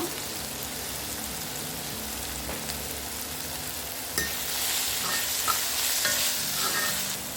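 Tomatoes sauté and get stirred in a pan for Chettinad crab masala, giving a steady sizzle with scraping strokes that grows louder and brighter partway through, close up and with no talking.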